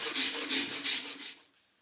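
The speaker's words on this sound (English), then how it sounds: "a rasp is an inexpensive and effective way to remove controlled amounts of wood" A wood rasp files a wooden bow in four or five quick rhythmic strokes, close and scratchy, then stops.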